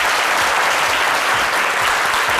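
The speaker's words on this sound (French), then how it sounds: "Applaudissez-vous pour le Before." An audience applauds at a French-language midday broadcast event, steady dense clapping that fills the space evenly without any lull from start to finish.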